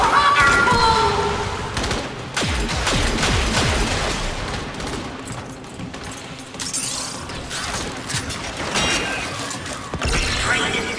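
Video game carnage with bullets flying everywhere: loud, busy bursts of gunfire mixed with mechanical clanks, shattering and creaking, sustained throughout with sharp peaks near the start and end.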